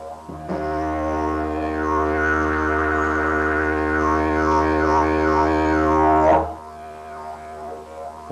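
Didgeridoo played with a pulsating tongue, a loud, close, continuous low drone whose upper overtones wobble in rapid rhythmic waves, ending abruptly after several seconds with a short breathy sound at the close.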